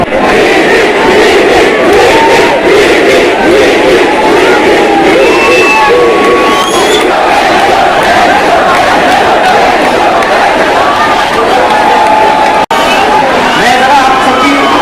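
A huge crowd at a live comedy and music show with Zakir Khan cheers and shouts continuously, loud and dense, with occasional whistles rising above the roar.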